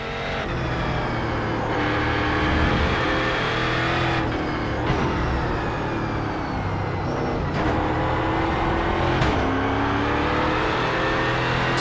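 A race car engine in iRacing EuroNASCAR at Brands Hatch Indy, loud and close, revving high, then dropping sharply at each gear change before climbing again, repeated several times with no talk.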